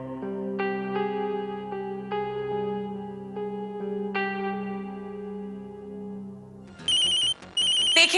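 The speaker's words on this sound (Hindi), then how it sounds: "देखिए किसका फोन आ रहा है।" A phone ringtone plays a repeating electronic melody at moderate volume, followed by a harsher, brighter beeping ring pattern near the end, with no one speaking over it.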